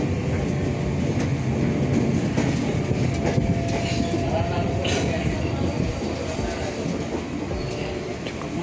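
Commuter train rolling past on rails near the heritage Tanjung Priok station, a loud continuous rumble with clattering wheel clicks and metallic squeals throughout, faint voices in the background.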